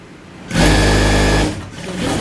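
A sewing machine stitches the handle onto a tote bag, running in one loud steady burst of about a second after a quiet start, then fading into softer handling noise.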